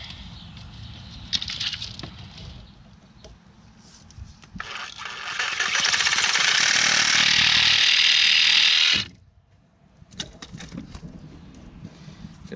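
PVC pipe for a pool sand filter being cut: a loud, steady rasping cut of about four seconds, then an abrupt stop, with quieter scattered handling noises before and after.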